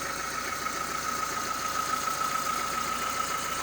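A 1987 Honda Civic engine idling with the hood open, a steady close mechanical hum with a faint high whine, running evenly with no voices.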